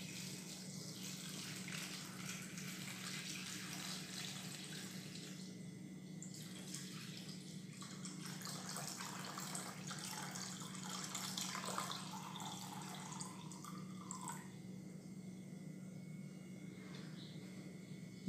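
One litre of water pours steadily into a container for a meat-curing brine, a continuous faint splashing and trickling stream with no voices over it.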